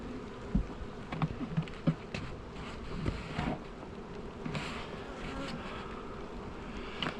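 Honeybees buzzing around a hive box in West Virginia in spring, a faint continuous hum with scattered closer passes and light handling knocks, no talking.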